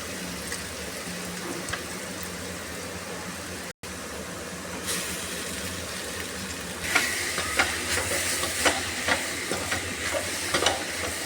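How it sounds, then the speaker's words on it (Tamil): Cooked rice is stirred into sautéed coriander and curry leaf mixture in a hot pan, giving a steady sizzle with scraping stir strokes that grow louder and more rhythmic in the second half, after a brief dropout. "இப்போ சாதத்தை போட்டு இதோட கிளறிக்கலாம்"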